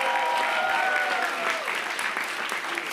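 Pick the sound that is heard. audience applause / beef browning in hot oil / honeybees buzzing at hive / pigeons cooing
audience applause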